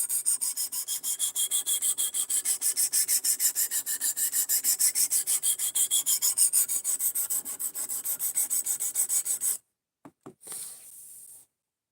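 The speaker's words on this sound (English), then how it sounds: "I'm a guy in his basement sharpening a knife and cutting up cardboard" A knife blade is drawn over a sharpener in a basement in quick, even rasping strokes, dozens in a steady rhythm, close and loud, then a pause and a few last scrapes.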